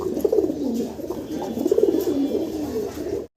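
Large pigeons coo in soft, repeated throaty phrases close by, with a faint murmur of background noise around them.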